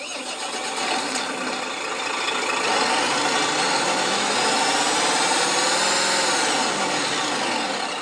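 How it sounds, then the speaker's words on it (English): An RC sound module simulating a V8 Scania 730 hp truck engine, a steady, loud diesel rumble that revs up and settles back down, heard alone through small speakers. "So then here's a V8 Scania, 730 horsepower."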